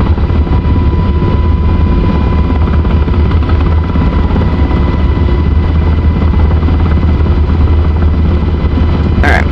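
A UH-60L helicopter in the DCS World flight simulator thumps with a loud, constant low rotor drone and turbine hum throughout the approach to landing.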